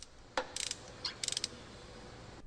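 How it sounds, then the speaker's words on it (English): A torque wrench tightening a spark plug gives a few short, sharp mechanical clicks in quick bursts, close and fairly quiet, with no talking. "Then, using a torque wrench, tighten the spark plug, making sure to follow the manufacturer's torque specifications."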